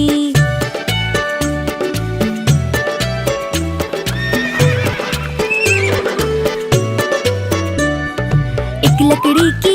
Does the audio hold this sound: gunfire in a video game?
no